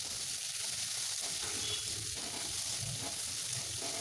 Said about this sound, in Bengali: পেঁয়াজটাকে আমি একটু লাল লাল করে ভেজে নেব।